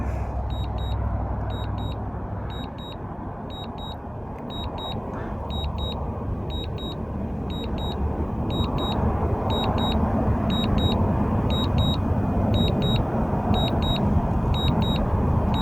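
Regular high-pitched double beeps from a drone's warning alert repeat steadily throughout, over a constant low rumble and whooshing wind-like noise.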